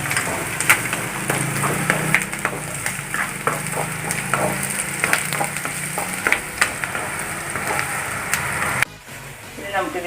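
Sliced onion and green chillies sauté in a hot pan for a tapioca bonda filling, giving a steady close sizzle and crackle with intermittent stirring scrapes throughout, while a person talks over it.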